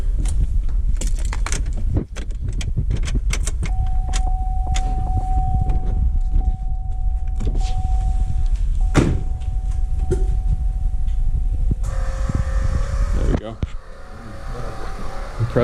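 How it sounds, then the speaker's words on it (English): A Trailblazer SS rear air suspension compressor switches on with the key turned, running as a steady mid-pitched electric hum, joined around halfway by a stronger, busier motor tone, over a constant loud background with scattered clicks and clunks. "you should hear the compressor turn on"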